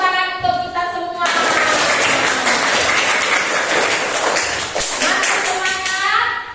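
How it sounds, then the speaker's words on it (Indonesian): A class of students claps together in a classroom, a dense burst of applause lasting several seconds. A voice speaks before the clapping begins, and a voice returns as it dies down. "Tepuk tangan untuk kita semua."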